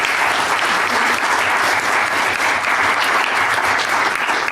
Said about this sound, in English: Please give a round of applause for Professor Kitrosser